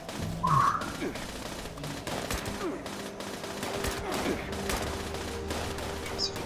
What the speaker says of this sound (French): Les balles ricochent.